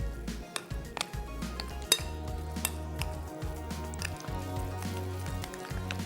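A spoon scrapes and clinks against a pot as chickpea powder is stirred into palak gosht pulao, with close, irregular metallic knocks and soft scraping throughout.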